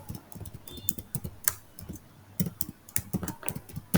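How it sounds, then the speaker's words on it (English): Rapid, uneven clicking of keys on a computer keyboard, close and fairly soft, with brief pauses between bursts of typing. "I'm typing the name of the function"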